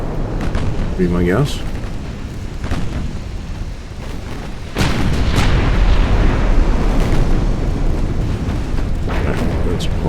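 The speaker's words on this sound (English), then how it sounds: "I would assume he just took a hit from the enemy battleship" A shell strikes a battlecruiser from an enemy battleship in the naval game Ultimate Admiral Dreadnoughts, giving a heavy explosive boom with rumbling aftermath over ongoing game noise, and someone talks briefly over it.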